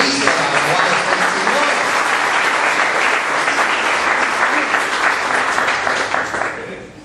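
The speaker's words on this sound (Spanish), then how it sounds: "Dale un aplauso a Jesucristo" Church congregation during a sermon bursts into loud, sustained applause, a thick continuous roar of many hands that holds steady before tapering off at the end, with faint voices mixed in.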